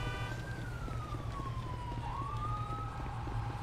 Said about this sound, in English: Hear nothing but sirens.